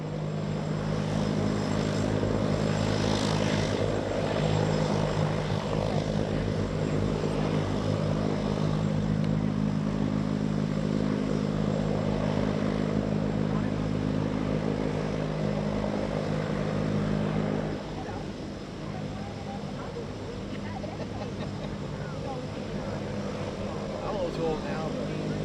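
A Blue Angels jet taking off from runway 13 right drones loudly and steadily with engine roar, then drops in level as it pulls away. Radio and cockpit voices are heard over the noise.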